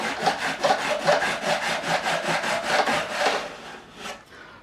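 Metal file rasping across the fret ends of a 2005 Gibson Les Paul during a refret, beveling them at about 15 degrees; steady rhythmic back-and-forth strokes, close and fairly loud, with no talking.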